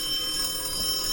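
A telephone rings inside the ghost-hunting video game Phasmophobia, set in a house at 6 Tanglewood Drive, with a steady, continuous electronic ring filling the whole short moment.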